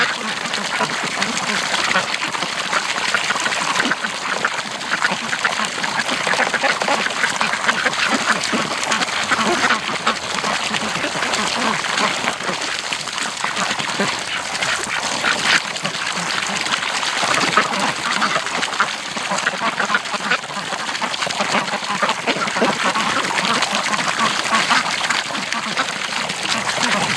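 A flock of ducks quacking by a lake on a freezing morning, a dense continuous chorus of calls with splashing water, and a person talking at times over the din.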